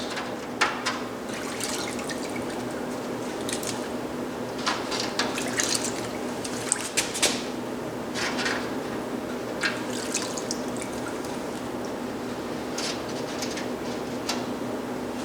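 Steel wheel bearings are swished and rinsed by hand in a bucket of soapy water, giving soft watery sloshing with scattered drips and splashes, fairly close and steady, with no talking.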